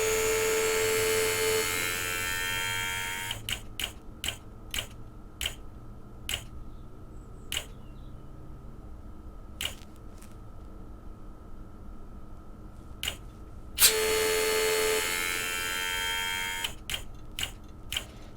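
A small electric brake vacuum pump motor in an electric-converted Porsche 911 whirs and buzzes for a few seconds, stops amid sparse clicks and ticks, then runs again briefly.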